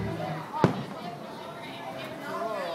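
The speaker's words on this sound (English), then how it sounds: "Fireworks going off over there." Fireworks going off over Orange Beach, Alabama, one sharp distant boom followed later by a fainter pop, heard from afar with background chatter and voices throughout.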